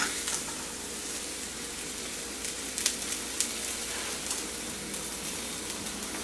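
Eggplant pan-fries in oil with a continuous dense sizzle and scattered sharp pops and crackles, steady and fairly close, without talk.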